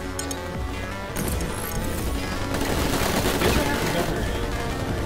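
Gunfire from the game New Tales from the Borderlands: rapid automatic bursts and scattered shots build into a dense, loud firefight, with clinks and voices mixed in under the shooting.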